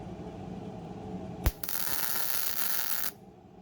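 Electric welding on a broken ATV engine gear shift shaft: a sharp click as the arc strikes, then a steady, close crackling hiss for about a second and a half before it cuts off abruptly.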